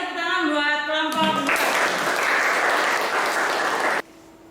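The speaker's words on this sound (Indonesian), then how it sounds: "tepuk tangan buat kelompok" A classroom bursts into applause for a student group, a loud dense patter of many hands lasting about three seconds after a voice speaks, then cutting off abruptly.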